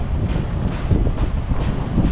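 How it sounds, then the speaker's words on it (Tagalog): Steady, loud wind buffeting the microphone, a continuous low rumble with gusty surges throughout and no speech. "Ang hangin dito"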